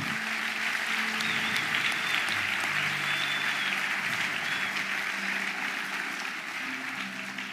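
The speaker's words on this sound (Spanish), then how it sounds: "yo quiero que recibamos hoy con un fuerte aplauso" A church congregation gives a loud, sustained round of applause welcoming a guest, dense clapping that holds steady for several seconds.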